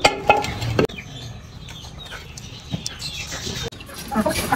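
A hen clucks and squawks close by in a small backyard flock of chickens, a few sharp calls at the start and end with quieter rustling between.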